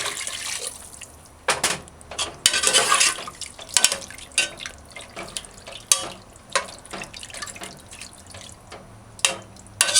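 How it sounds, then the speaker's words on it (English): Water is poured into a pot for brown-stewed cow tripe, giving irregular close splashing and trickling bursts with a few drips, all with no talk. "Add 3 cups of water."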